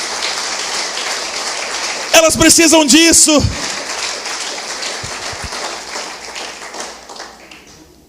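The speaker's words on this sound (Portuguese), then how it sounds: "E aplauda o nome dele, em nome de Jesus." A church congregation applauds in a steady, dense clatter that slowly fades away, while a voice speaks briefly over the clapping.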